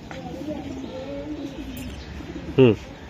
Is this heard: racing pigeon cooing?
yes